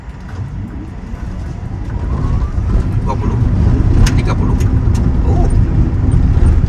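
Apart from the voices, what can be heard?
Honri Boma electric car accelerating from standstill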